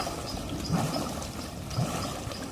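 Water glugging and trickling out of an outlet near Shadwell Basin in East London, a steady wet burble with a couple of deeper gulping surges, close and alone.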